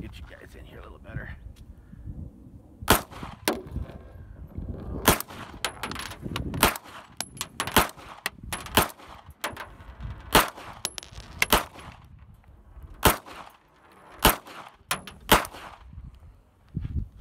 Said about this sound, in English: we're going to shoot it from right here